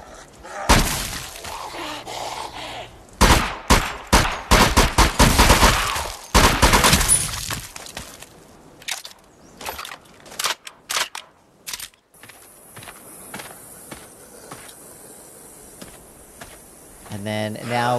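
Gunfire from the VR zombie shooter Arizona Sunshine: sharp, close shots fired one at a time in an irregular string, some in quick bursts, with breaking-glass crashes mixed in and talking heard between them.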